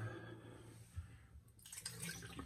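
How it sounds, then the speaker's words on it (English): Water from a tap runs into a bowl as an Omega boar shaving brush is swirled and rinsed of soap, a quiet close trickle that turns to a brighter splashing stream partway through. "So I'm running the water and I'm swirling it out, getting the soap off of it."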